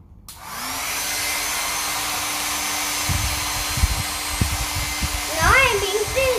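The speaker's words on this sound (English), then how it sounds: "I use the hair dryer to simulate the wind" A hair dryer blows steadily, used to make wind for a homemade anemometer, with a constant whooshing motor hum that starts abruptly and holds loud and near, with a few soft knocks and a brief child-like voice near the end.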